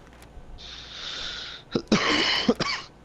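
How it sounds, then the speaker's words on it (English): Raspy, drawn-out noises followed by a cluster of sharp coughs close to the microphone, with no speech. "sorry about that cough"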